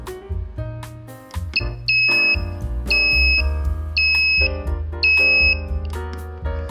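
Backup horn effect from a ZL66T melody IC module, heard as a series of loud repeating electronic beeps at regular intervals over a low buzzing melodic bed. It stays close and steady throughout, with no speech.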